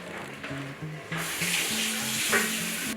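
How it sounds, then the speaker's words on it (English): A sauce can being filled with water, a steady hiss and splash of running water that swells louder midway, with a low tonal hum running underneath throughout. "So I've just filled that same can up with water"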